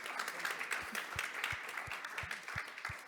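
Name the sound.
audience applause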